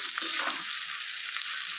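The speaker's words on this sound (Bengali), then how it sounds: "ভাজাও হবে পেঁয়াজটা" Sliced onion with a pinch of salt frying in a pan, a steady bright sizzle with faint stirring scrapes, close and alone with no voices.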